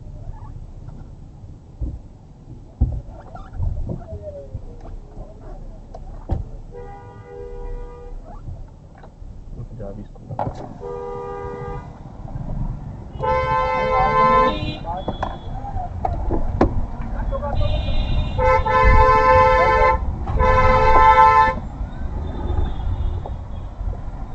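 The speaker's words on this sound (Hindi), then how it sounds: "ये हॉर्न बजाकर फॉर्च्यूनर को रुकवाने की कोशिश करते हैं" Several bursts of car horn honking at a Toyota Fortuner, a couple of short beeps then longer blasts, sounding over road and engine noise with voices in the background.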